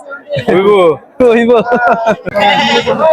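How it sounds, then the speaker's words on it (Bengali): Goats bleat loudly and close by at a crowded village goat market in Bangladesh, with several wavering cries following one another over a few seconds. "সব মিলে এই হাটে প্রচুর ছাগল লেগেছে।"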